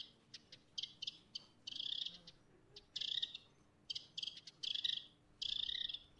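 Bird calls come in short repeated bursts of high, sharp notes, some quick clicks and others longer trilled phrases, fairly faint against a quiet background.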